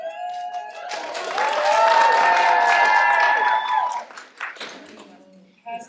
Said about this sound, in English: the crowd erupts into a cacophony of cheers and applause